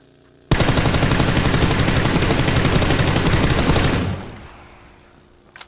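Gunfire in the PUBG video game roars out as one loud, continuous automatic burst lasting about three and a half seconds, then dies away into a fading tail.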